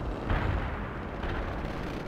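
Artillery barrage in World in Conflict, a dense, steady rumble of distant booms and explosions rolling continuously, with one heavier blast near the start and no voices.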